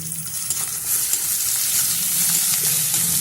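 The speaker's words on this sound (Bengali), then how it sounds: "রসুন আর পেঁয়াজটা ভালো করে আমি নাড়াচাড়া করছি।" Garlic and onion frying in a pan give a loud, continuous close-up sizzle, with faint scraping as they are stirred throughout.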